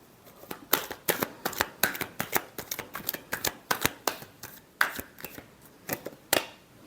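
A deck of tarot cards is shuffled over and over during a reading, giving a quick run of crisp riffling bursts and soft slaps close by, with no talk.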